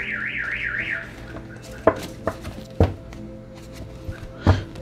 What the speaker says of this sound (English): That car alarm just went off.